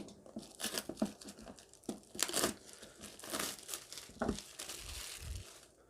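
Cardboard packaging of a Fossil Generation 5 Carlyle HR 44mm smartwatch box being cut open, with close crinkling, tearing and scraping bursts in an irregular rhythm and no voices.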